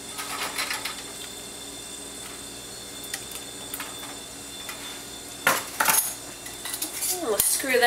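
A metal band is screwed by hand onto a glass jar of home-canned pickled green beans, producing a few small metallic clinks and scrapes, close and fairly quiet, with a brief burst of handling noise near the end.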